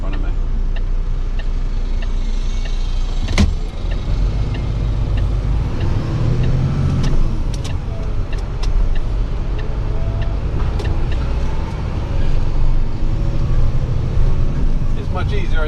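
A truck makes its way through city traffic past lights and crossing pedestrians, its steady low engine rumble and road noise running nearly the whole time beneath a continuous voice, with a few sharp knocks scattered through.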